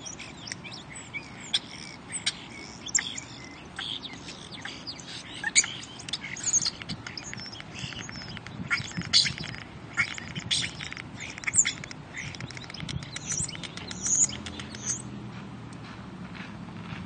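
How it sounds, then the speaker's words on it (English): A bird chirps in a fast, rhythmic, beatbox-like pattern of clicks, squeaks and buzzy tweets, steady and fairly close for the whole stretch with no voices over it. "this bird's doing dubstep"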